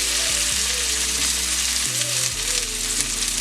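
Stuffed salmon sears in a hot pan with a loud, steady sizzle and crackle that runs unbroken throughout, with a low hum beneath and no voices.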